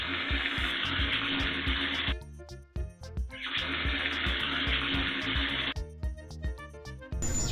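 Water gushes from an open tap in two loud bursts of steady rushing flow, with brief pauses in between where clattering and knocking sounds come through.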